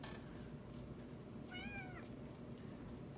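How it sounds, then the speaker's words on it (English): A house cat lets out a single clear meow of about half a second, quiet and set against a steady background hum, with no talking. "My cat's saying, pay attention to me."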